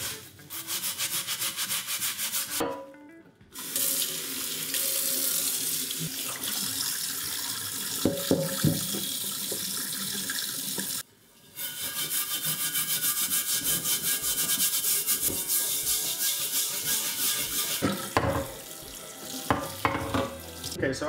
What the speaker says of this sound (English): I'm gonna get set back up over at the sink and we'll do some scrubbing